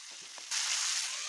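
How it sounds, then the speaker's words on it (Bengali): Chopped tomato goes into a pan of frying potatoes. A faint low sizzle surges into a louder, sustained hiss about halfway through and stays steady, with no talk. "আলুটা অনেকটা ভাজা হয়ে এসেছে, এখন দিয়ে দিচ্ছি কোঁচানো টমেটোটা।"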